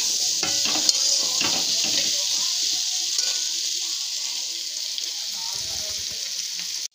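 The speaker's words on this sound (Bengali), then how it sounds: "হলুদ আর লবণটা মিশিয়ে ভালো করে আলুটাকে ভেজে নেব" Potatoes with turmeric and salt fry in a pan with a steady bright sizzle, broken early on by a spatula scraping and clinking against the metal as they are stirred.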